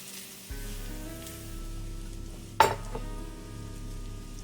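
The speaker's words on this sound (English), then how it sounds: "we're going to be toasting the rice" Risotto rice sizzles gently in a pan with fragrant aromatics, a low steady hiss with a sharp metallic clink of a utensil midway, no voices.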